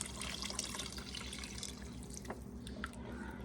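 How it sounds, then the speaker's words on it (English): Water is poured into a soup pot in a home kitchen, a soft steady splashing stream that stays faint and continuous, with a few small drips near the end. "I'm gonna put in some water."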